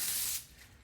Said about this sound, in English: as you can see, you just spray this stuff on and then that dirt